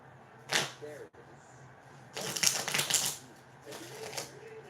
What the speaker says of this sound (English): let me shuffle these cards up for you